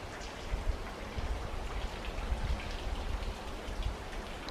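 Trickle of Sycamore Falls, a continuous spattering rush of falling water with a low rumbling base, steady and close, with no voices.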